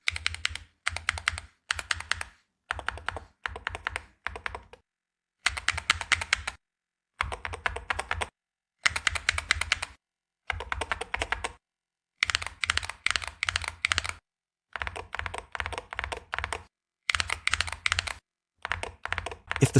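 Typing on a keyboard with magnetic switches, rapid clacking bursts of keystrokes separated by short pauses, close and crisp throughout with no talk.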